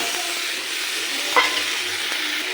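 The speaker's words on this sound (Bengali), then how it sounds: "এবার দিয়ে দেবো চেরা কাঁচা লঙ্কা, টমেটো কুচি" Slit green chilies and chopped tomato hit hot oil with turmeric and salt for a Bengal sharputi fish curry, giving a steady sizzle with one louder stir-clatter midway; no talk.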